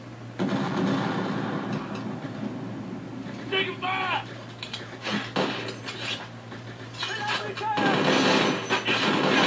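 Machine gun fire in the Conflict: Desert Storm video game, with bursts of gunfire alongside a steady low hum and game sound effects, as people talk throughout.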